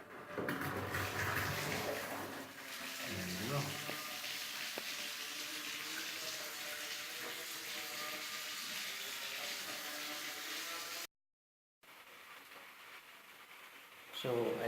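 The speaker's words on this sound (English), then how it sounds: "Fill this tub with water until it's half full, so we can test the motor." Water running steadily into a massage bathtub being filled to half full during installation, a continuous broadband rush with brief clunks early on and a short gap near the end, with faint talk in the background.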